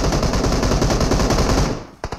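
Rapid automatic gunfire from a shooting video game rattles loud and close in a continuous fast burst, then cuts off into a few scattered single shots.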